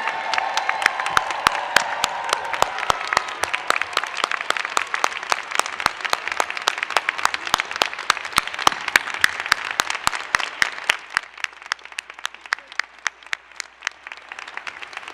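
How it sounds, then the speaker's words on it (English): Audience at a 2022 county inauguration ceremony applauds council members with sustained, dense clapping that holds steady for about eleven seconds before thinning to a few scattered claps and fading out. "Let's give our Prince George's County Council members a Prince George's round of"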